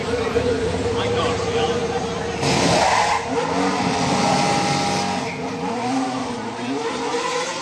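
Race cars in Melbourne, Australia scream past with engines revving and tires squealing, loud and close, while excited people talk over the noise.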